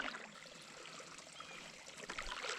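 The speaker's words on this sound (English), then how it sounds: "that's the spring water coming down" Natural spring water in Algonquin Park trickles and splashes downhill, a faint, continuous bright babbling close by with no voices.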